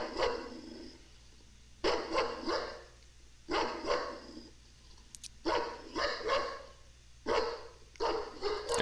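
A terrified, protective dog barks in harsh clustered bursts, several barks to each burst with pauses between them, loud and close over a low steady hum.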